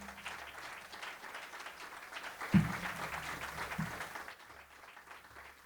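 Audience applause at a university ceremony for an honored guest, a government minister, with a broad, moderately quiet wash of clapping that swells briefly midway and then fades out.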